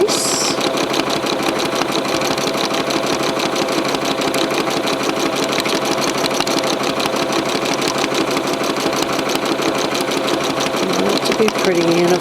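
Sewing machine stitching free motion quilting in a lattice grid, a loud continuous rapid mechanical chatter running throughout, with a voice talking over it.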